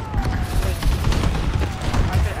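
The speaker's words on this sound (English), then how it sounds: "Enemy bombing run overhead." Loud, continuous rumble of bombs and gunfire during an enemy bombing run in a video game, with dense low booms and crackling blasts under overlapping voices.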